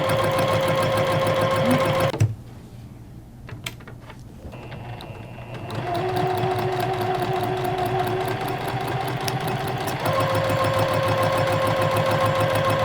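A sewing machine stitches a fabric dog bandana with a fast mechanical whir. It stops briefly for a few seconds, then runs again steadily for a couple of short back stitches and continued sewing.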